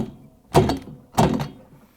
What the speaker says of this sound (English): I'm going to knock on the handle hard to tighten the nut.